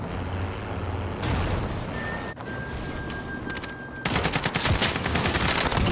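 Bursts of rapid gunfire crackle through a shooter video game, a steady rattle that cuts out briefly and returns louder and denser near the end, with little talk.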